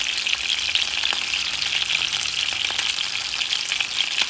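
Tomatoes fry in a hot pan with a constant bright sizzle and crackle, punctuated by small pops and spits, close and steady with no voices.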